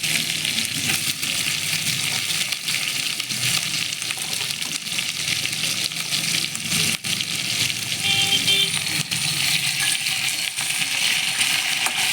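Onions fry in a hot pan with a dense, even sizzle that stays loud and close throughout, broken by a few faint clinks and stirs.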